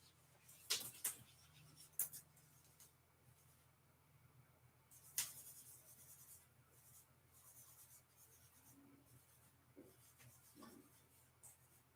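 Writing being erased from a classroom board during a high school music lesson: intermittent rubbing and wiping strokes with a few sharper knocks, close and moderately quiet, with no speech.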